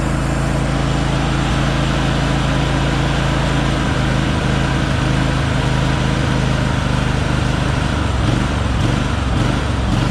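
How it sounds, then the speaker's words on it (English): A John Deere LX188 lawn tractor engine drones loudly and steadily up close, revving roughly like it has a cam, a continuous mechanical hum with slight shifts in pitch near the end. "It revs like it's got a cam in it"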